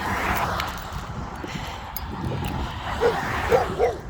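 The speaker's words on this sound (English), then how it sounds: "We got damn pit bulls barking at my pretty baby" Pit bulls barking nearby, a few yipping, whiny barks toward the end over steady outdoor background noise, with a person's voice murmuring early on.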